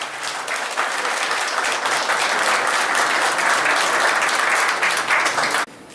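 A large crowd at a Korean ceremony marking 500,000 elevators applauds steadily for several seconds, dense and even clapping that stops abruptly near the end.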